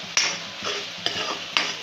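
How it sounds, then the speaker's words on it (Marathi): A spoon stirs and fries spice masala paste of onion and tomato in hot oil, with a sizzle underneath and three sharp scrapes against the pan, close and fairly loud, no talk. "तेल सुटेपर्यंत चांगलं परतून घ्यायचे ते सर्व"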